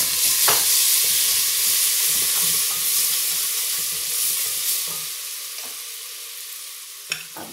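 Garlic paste sizzles and hisses in hot oil while frying for kadhi pakora, a steady, close frying crackle with occasional stirring scrapes that slowly settles down.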